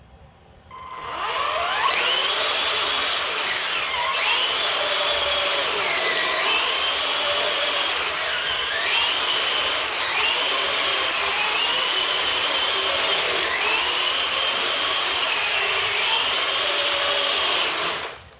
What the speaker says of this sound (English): this is the test with the modified timing on the motor and the mean green machine.